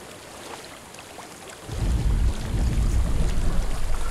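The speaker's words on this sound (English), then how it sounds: "I hear water. The audio gets Go louder when I face it." Steady rushing water in the video game Hellblade: Senua's Sacrifice fills the space, growing noticeably louder partway through as the flow comes nearer.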